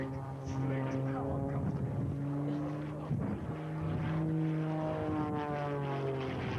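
A propeller aircraft flies aerobatics in a competition at the Warbirds Over Wanaka airshow in 2004. Its engine drones steadily, rising and falling in pitch as it passes, with commentary faintly beneath.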